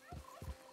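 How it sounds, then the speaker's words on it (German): A turkey gobbles in Red Dead Redemption 2, a quick faint run of three short throaty bursts. "Noch ein Truthahn."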